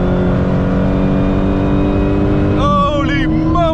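An 888-horsepower Dodge Challenger Hellcat widebody engine roars and revs hard, its pitch climbing sharply near the end as it accelerates, with voices mixed in.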